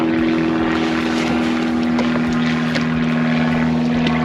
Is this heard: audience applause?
no